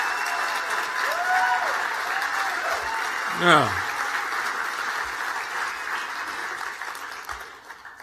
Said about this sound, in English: clap for the other tables, make some awkward eye contact, and just clap at somebody else